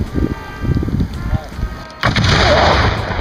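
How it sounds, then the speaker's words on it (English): Old cannons fire at a Fort Stevens reenactment staged by people in period clothing, heavy booming blasts ringing out, the last one loud and close and rolling on into a long roar. "watch a bunch of old men play with cannons"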